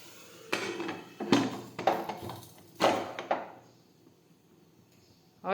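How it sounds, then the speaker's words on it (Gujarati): A pressure cooker lid is fitted and closed over a simmering eggplant, potato and tomato curry, giving a few sharp metallic clunks and knocks in quick succession, then a quiet pause before one last clank. "હવે આપણે કુકરનું ઢાંકણ છે તે બંધ કરી દઈશું"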